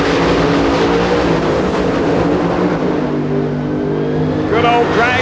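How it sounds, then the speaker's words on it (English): Top Alcohol drag race car blasting down the strip at the 1995 NHRA Winternationals, a loud sustained roaring engine with shifting harmonics over crowd noise, a commentator talking over it. "Good old drag race"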